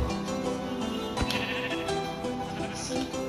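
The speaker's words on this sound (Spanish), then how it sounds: "¡Mira esta oveja!" Sheep bleating in the Minecraft video game, a wavering nasal bleat rising over a steady background of game ambience, fairly close and clear, with no talking.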